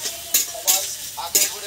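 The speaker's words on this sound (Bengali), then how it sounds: "পেঁয়াজ একটু ভেজে নিয়েছি" Onions sizzle in a pan while a spoon scrapes through them in three or four quick, close stirring strokes, with a soft frying hiss underneath.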